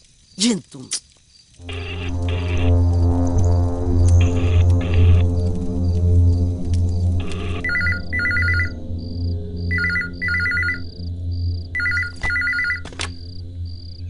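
A few clicks, then a telephone rings over a steady electronic hum, its trilling rings returning in repeated paired bursts.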